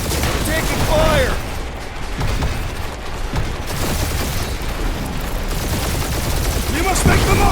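Gunfire in the video game Marvel's Guardians of the Galaxy, continuous loud shooting and impacts layered over dense battle noise and music, with voices talking throughout.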